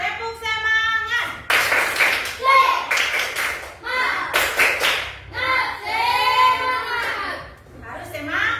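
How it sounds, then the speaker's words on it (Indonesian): Schoolchildren in a classroom perform a rhythmic spirit clap, sharp bursts of hand claps in patterned groups alternating with loud chanted children's voices, close and energetic. "Tepuk semangat"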